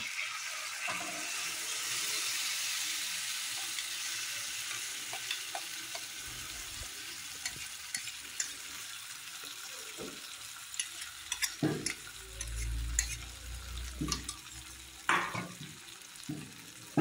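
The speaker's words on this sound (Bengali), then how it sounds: "মটরশুঁটি দিয়ে আমি ভালো করে কষাবো।" Ground green peas sauté in oil in a kadai for kachori filling, with a soft, steady sizzle and occasional spoon clinks and scrapes that grow louder and more frequent toward the end.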